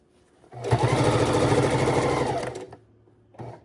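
A sewing machine stitches binding in one steady, continuous run of about two seconds, close and fairly loud, stopping and then giving a short final burst.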